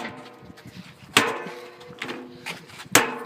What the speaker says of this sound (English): take the hammer and hit the vacuum cleaner around the metal part